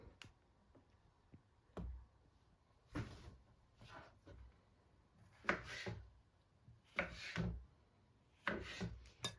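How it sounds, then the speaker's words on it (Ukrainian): A knife cutting champignon mushrooms into quarters on a board, producing quiet, close, scattered cuts and scraping bursts separated by short pauses, with no talking. "Ось так ми нарізали грибочки."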